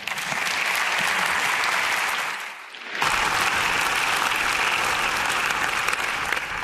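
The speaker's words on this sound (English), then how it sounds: "Let's please give a warm applause to Johannes Dunker." Warm audience applause for a co-screenwriter at the 2024 LUX Audience Award ceremony, a dense steady wash of many hands clapping that dips briefly near the middle before swelling back to full strength.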